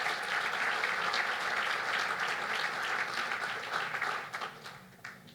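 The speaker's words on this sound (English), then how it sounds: "So a round of applause to all of our groups." Applause rises from a crowd at a ribbon cutting ceremony for a family cancer center, dense steady clapping that carries on for several seconds before thinning out and fading.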